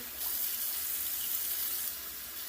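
Tap water runs steadily into a sink while a wig topper is washed, a continuous close hiss with no talking.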